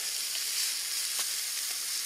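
Food sizzles in a pan on a Primus stove outdoors in a forest, a steady bright frying hiss with faint crackles that runs on with no one talking.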